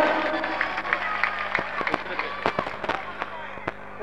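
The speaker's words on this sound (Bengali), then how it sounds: "জোরে একবার হাততালি।" Loud crowd applause erupts at an outdoor political rally, a ragged burst of clapping with sharp individual claps over a murmuring background hum.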